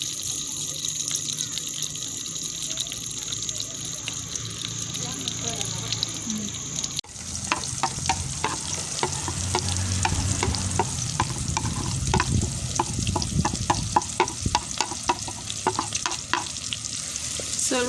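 Onions fry in homemade simsim (sesame) oil for Ugandan lakorokoro soup. Running water and faint talk come first, then a loud close sizzle with busy stirring and scraping takes over for the second half.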